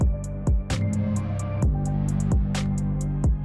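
A trap beat in FL Studio 20 with a deep, boomy bass shaped by parametric EQ thumps under rapid hi-hats and snappy percussion, loud and steady with no talking.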